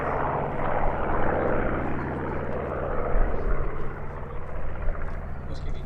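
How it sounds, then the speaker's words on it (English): A propeller aeroplane of the Flying Bulls four-ship display flies at the Sywell airshow in 2024, its loud engine drone rolling continuously and steadily close by. "It's just this beautiful aeroplane."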